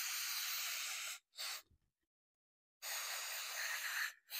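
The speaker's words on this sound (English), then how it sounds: "Okay, I'm going to spray this mass airflow cleaner." Two long hissing sprays of aerosol mass airflow sensor cleaner from a can, close up, with a short burst and a brief pause between them; no talking.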